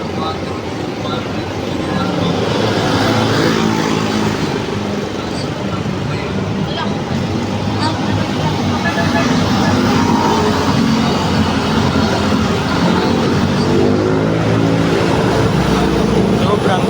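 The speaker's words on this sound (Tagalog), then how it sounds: "Sobrang dami sasakyan" Heavy city traffic in Manila: a dense, continuous roar of many cars, buses and engines close by, steady and loud throughout with a busy street wash and faint voices mixed in.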